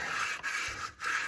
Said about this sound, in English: clean this up a little bit with some 220 sandpaper and a sanding block